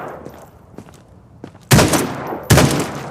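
Two loud, close gunshots in the video game Quarantine Zone: The Last Check, each a sharp blast with a short ringing tail, following a quiet stretch of faint shuffling.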